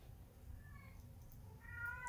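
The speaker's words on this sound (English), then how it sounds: "And my cat is meowing" A house cat meows twice, fairly faint and slightly distant, over a low steady background hum with no talking.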